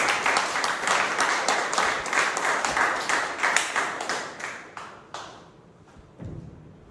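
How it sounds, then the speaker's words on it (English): Guests and members at a Toastmasters club meeting give a round of applause during a Tall Tales contest, a burst of lively clapping that thins to a few scattered claps and fades out. "Can we have a big round of applause?"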